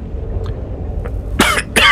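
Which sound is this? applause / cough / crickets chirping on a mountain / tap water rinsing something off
cough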